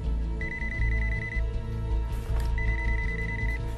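A telephone rings twice in a Turkish TV drama scene, each ring a steady electronic trill lasting about a second, clear and moderately loud above a low background hum.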